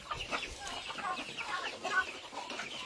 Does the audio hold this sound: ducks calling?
yes